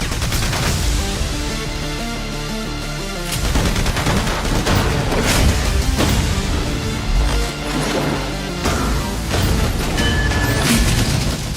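Dense, constant gunfire and booming explosions from the stylish shooter Gungrave G.O.R.E., loud and continuous, with rapid shots and heavy impacts layered over a driving soundtrack throughout.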